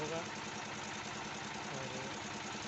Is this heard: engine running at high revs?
yes